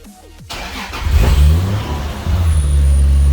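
Toyota Supra engine cranking briefly, then catching and firing up into a loud, rising rev before settling into a rough, steady idle, heard close and alone.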